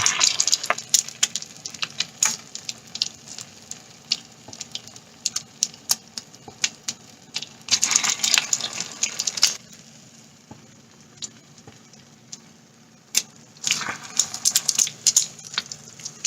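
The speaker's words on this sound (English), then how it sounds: "fry it on this pan" Potato cakes made from leftover mashed potato and dipped in egg wash deep fry in a pan of oil, a crackly, spitting sizzle with bursts of louder popping that rise and fall, close and without talk.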